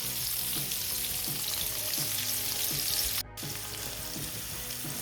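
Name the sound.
onion caramelising, frying in a pan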